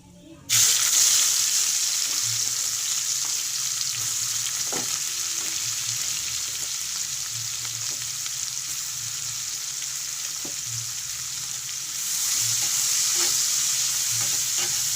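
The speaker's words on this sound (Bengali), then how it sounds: "এবার এর মধ্যে আমি দিয়ে দেব কুচিয়ে রাখা পেঁয়াজগুলো।" Chopped onions frying in hot oil with whole cinnamon, cloves and cardamom, a continuous close sizzle with occasional stirring clicks and scrapes, growing a little louder toward the end.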